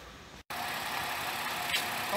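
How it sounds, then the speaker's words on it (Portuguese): A Ford Fusion V6 engine runs at idle with a steady, even hum throughout, interrupted by a brief cut in the sound. "Ford Fusion aqui já tá funcionando, tá?"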